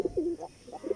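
Pigeons on a rooftop coo in low, throaty phrases, close and fairly clear. A rolling coo comes first, then a short pause, then a quicker run of pulsing coos.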